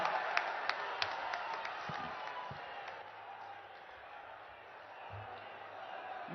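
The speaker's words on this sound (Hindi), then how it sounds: "बहुत जोरदार तालियों के साथ एक बार पुनः उनका सादर अभिनंदन, वंदन" A large audience in Varanasi applauds to welcome the Prime Minister, a faint, distant wash of clapping with a few sharper claps near the start and crowd murmur throughout.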